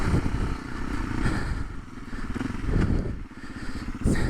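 A dirt bike motorcycle engine drones steadily and roughly up close, with rattling and clattering from the ride over uneven ground.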